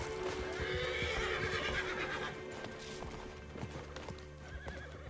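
Horse hooves clip-clopping in the game Red Dead Redemption on the WildRP server, with a horse whinnying clearly near the start, then a quieter run of hoofbeats and other game sounds.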